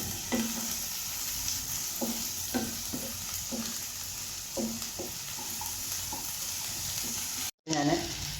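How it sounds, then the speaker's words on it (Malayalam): Onion and chopped ivy gourd sautéing in a pan, a soft continuous sizzle with regular spoon scrapes and taps roughly every half second, fairly quiet, no one talking. "എങ്ങനെ വേണമെങ്കിലും നമുക്ക് അരിഞ്ഞ് നല്ലതുപോലെ വഴണ്ട് വരുമ്പോൾ അതിനകത്തോട്ട് കോവയ്ക്കയും കൂടി ഇട്ട്"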